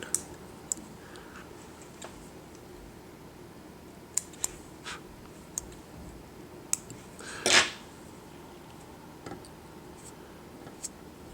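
Small scissors snip excess rabbit fur while a fly is tied, scattered light clicks and ticks across a quiet bench with one louder, fuller snip in the middle; no one speaks.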